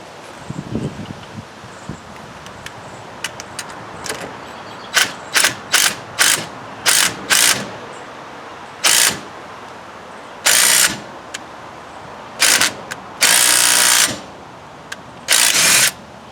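A lug nut over washers is wrenched down to draw a new wheel stud into the hub of a 2008-2010 Polaris RZR 800, heard as close metallic rustling followed by a series of loud, abrupt ratchet bursts.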